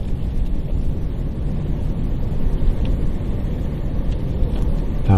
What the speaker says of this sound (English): the wind is really getting up now